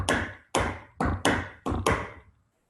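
Crisp tap shoe strikes on a hard floor from a tap class routine, six sharp clicks in a quick uneven step-heel pattern, near and loud, each ringing briefly before fading, with no voice.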